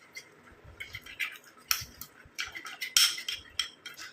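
Spoon scraping and clinking against a bowl while fenugreek and curd face pack paste is mixed, a quick irregular series of soft close taps and clinks with no talking.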